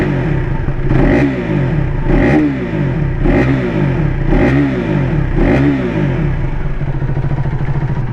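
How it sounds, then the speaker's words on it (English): A 2025 KTM Adventure 390 single-cylinder motorcycle revs through its exhaust, with five or six strong blips that rise and fall in a steady rhythm over a loud, bassy idle. The bike is close and no one talks. "Let's quickly turn on the bike and hear the exhaust note."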